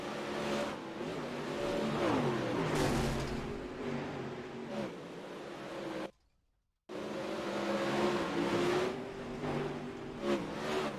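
Dirt late model race cars at the World 100 roar around a dirt track running the high line by the cushion, loud continuous engine noise with revving surges, broken by a brief silent gap midway.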